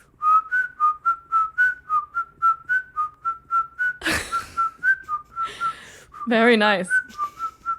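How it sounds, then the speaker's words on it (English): A person whistles a melody in a steady run of short, evenly paced notes, close and clear, briefly broken by a breathy noise and a short vocal squeal before the tune resumes. "I can whistle a melody."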